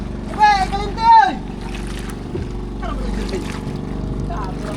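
The low steady drone of a motorboat engine on a Philippine fishing boat runs throughout, close by, with people talking and calling out in Filipino over it.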